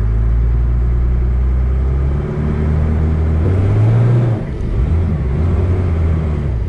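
A twin turbo Cummins diesel truck roars loudly and continuously on level ground during a launch attempt as its tires spin, with the engine note rising and dipping.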